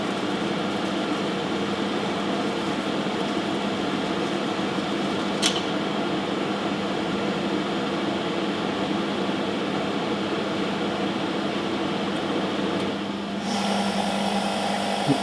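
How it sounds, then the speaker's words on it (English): A DEC PDP-11/70 tape drive loads a reel, its vacuum system drawing tape around the spindles with a steady whooshing hum, then a brief click and a shift in the airflow sound near the end. "you will hear whooshing noises as it sucks the tape round the spindles"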